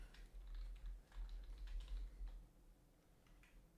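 Rapid typing on a computer keyboard, a close flurry of light key clicks that keeps going for a few seconds and then thins out, with no one talking.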